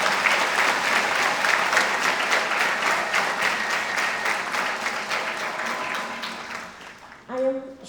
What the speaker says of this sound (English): can we please have another lovely round of applause?